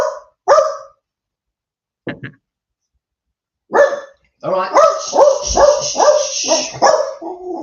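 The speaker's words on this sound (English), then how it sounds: "Let's let the dog have its little mum's come home bark." A dog barks excitedly as its owner arrives home, a few sharp barks at first, then a rapid run of loud, close yips and barks, after someone briefly speaks.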